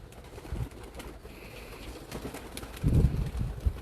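Homing pigeons in a loft aviary give soft, low cooing with scattered flutters, a louder burst of cooing and movement near the end, close by and with no talking.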